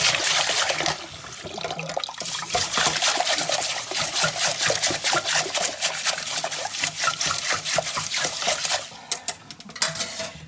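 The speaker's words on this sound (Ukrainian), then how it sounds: "Візьмемо собі для промиття води" Water is poured into a bowl to rinse rice in a home kitchen, a continuous splashing, trickling stream that runs steadily for several seconds, then breaks into a few final sloshes, close and fairly loud.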